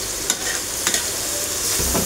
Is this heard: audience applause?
no